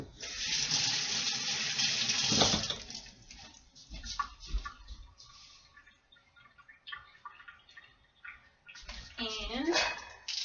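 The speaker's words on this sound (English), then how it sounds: "Okay, and rinse that off." Tap water runs steadily into a kitchen sink while onions are rinsed, a bright close hiss that swells and then eases, with brief talk and some clattering near the end.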